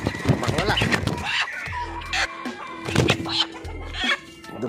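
Native chickens, young pullets, cluck and cackle near a cooking setup, with short calls scattered over background talk and low rumbling noise.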